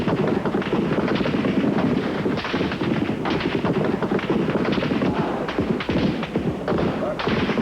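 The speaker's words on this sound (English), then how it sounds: "In the early hours of Sunday, troops stormed the square in force and opened fire." Troops opening fire in the square during a night assault, 1989 news footage: rapid, dense bursts of machine-gun and rifle shots crackling continuously, loud and chaotic, with shouting voices mixed in.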